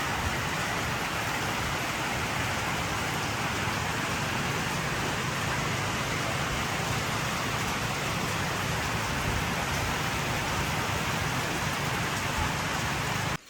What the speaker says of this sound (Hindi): ऊपर से आपको आवाज़ भी सुनाई दे रही होगी बारिश की।